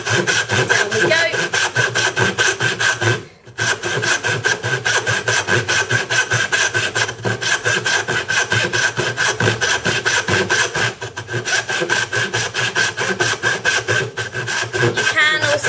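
A hand saw cuts along the grain of wood for a half lap joint, with loud, steady back-and-forth rasping strokes close by and a brief pause partway through.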